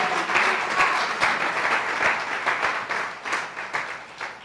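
A church congregation applauds in a sustained wash of dense clapping that rises and falls slightly in waves throughout, with no clear voices over it.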